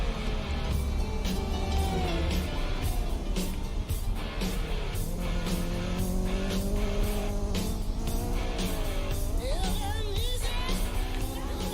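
Cars race around a Hot Wheels track in the Roblox game Midnight Racing Tokyo, with constant engine whine and occasional tire squeals blended under loud continuous music.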